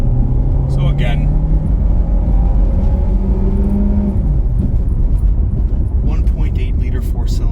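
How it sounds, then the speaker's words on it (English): A 2004 Toyota Corolla with a 1.8-liter four-cylinder engine accelerates hard through its gears, its engine rising in pitch, dropping at each shift, then climbing again. A loud interior drone carries throughout, with a voice heard briefly. "stand on it, let you hear it go through the gears"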